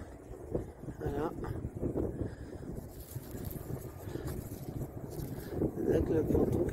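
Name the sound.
wind at a harbour with sailboats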